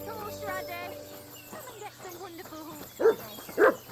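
A dog in the medieval video game Kingdom Come Deliverance 2 gives two sharp barks near the end, following game sounds and someone talking.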